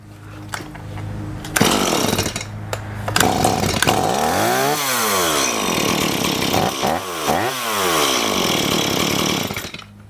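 A STIHL MS170 chainsaw with a newly replaced throttle trigger is pulled over a few times, then catches and runs, revving up and down repeatedly before settling, loud and close.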